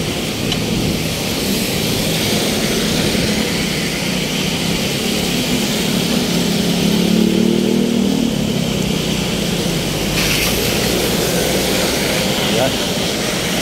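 Engines of passing traffic heard from a bicycle on a city road in Makati, a steady loud roar of motors and motorcycles rising briefly as vehicles pass close.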